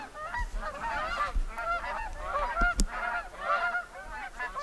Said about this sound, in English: the geese are on their way